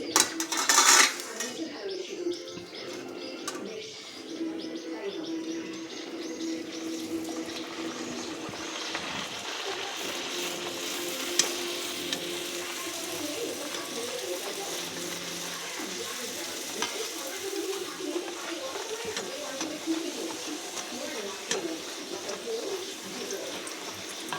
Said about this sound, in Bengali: আর একটা ভেজে নিই